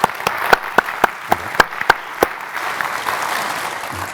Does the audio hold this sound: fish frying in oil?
no